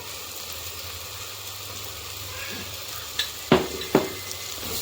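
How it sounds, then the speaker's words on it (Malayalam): Curry leaves, salt and spices sautéing in a pan: a steady low sizzle with a few sharp scraping clinks of a spoon against the pan near the end. "ഇനിയൊന്ന് നല്ല വഴറ്റിയെടുക്കുന്നുണ്ട്."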